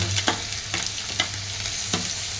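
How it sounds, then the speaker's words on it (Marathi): Onions frying in hot oil for chicken biryani, a loud continuous sizzle close up, punctuated by four sharp stirring scrapes at roughly even intervals, with no talk. "जरासा कांदा असा चांगला तेलावर परतून घ्यायचा"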